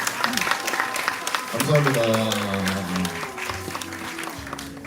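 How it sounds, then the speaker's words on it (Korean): A middle-school church youth service audience claps briefly after student presentations, with a man thanking them and speaking over the scattered applause that fades as his voice carries on. "우리 소개해주신 5분께 다시 한 번 더 박수하겠습니다"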